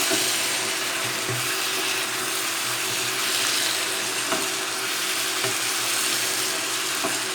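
Broccoli sabji sizzles steadily in an uncovered pan while a utensil stirs it, with occasional soft scrapes and knocks against the pan heard close up over a constant frying hiss.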